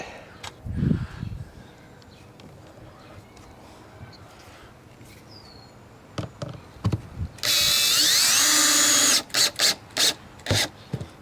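A power drill drives number 8 one-inch pan head square drive screws while a vintage truck camper is sealed against the weather. One long, loud whir is followed by several short bursts, after quieter handling and thumps.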